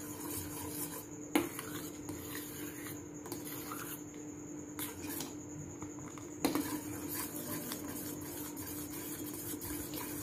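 A spoon scrapes and rubs softly and steadily against a pan while thickening fruit custard mixture is stirred, with a couple of faint knocks along the way.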